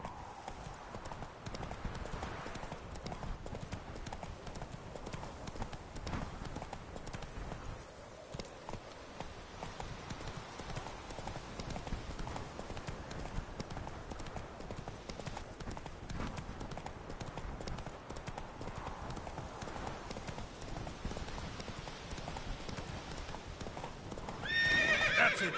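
Roach, Geralt's horse in the video game The Witcher 3, gallops with a rapid, steady clip-clop of hooves over a soft rumbling background, and a brief neigh near the end.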